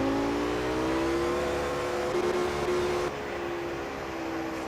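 Car engine in the racing game Assetto Corsa, a steady droning whine holding pitch, shifting slightly mid-way, then dropping a little quieter; continuous and alone, no voices.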